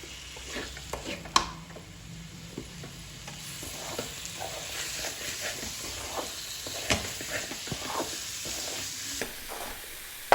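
Prawns go into a pan of egg and prawn thokku masala, a steady sizzle and hiss broken by scraping stirs and a few sharp clatters, with no talking over it.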